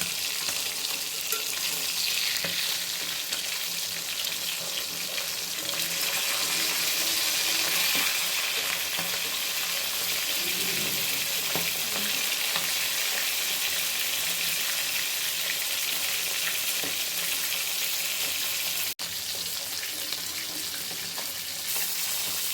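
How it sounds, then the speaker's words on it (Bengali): Fish pieces rubbed with salt and turmeric frying in oil in a small wok, giving a loud, continuous crackling sizzle that holds steady for over twenty seconds with no talking. "মাছগুলোকে ভেজে নিচ্ছি।"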